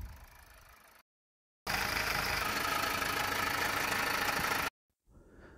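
Steady diesel engine noise from a Mazda 2.2 Skyactiv D with an abnormal sound in the lower engine, a close, even mechanical drone lasting about three seconds between short silent gaps.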